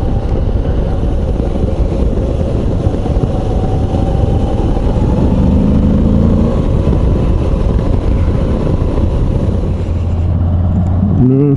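A 2022 Moto Guzzi V85 TT motorcycle under way, its engine a continuous loud drone mixed with rushing wind noise, holding fairly even with a slight change in pitch partway through the ride.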